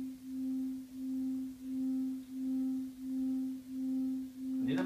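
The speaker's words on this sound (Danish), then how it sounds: "en tone, som svinger mellem højre og venstre lydkanal" A steady low electronic binaural beat tone swinging between left and right channels pulses evenly in slow swells, about seven beats, with a faint higher overtone and a brief rustle at the end.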